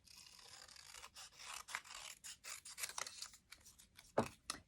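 Scissors fussy-cutting patterned card stock for a Stampin' Up! Christmas card, with a run of close, crisp snips and rustling paper, then two sharper cuts near the end.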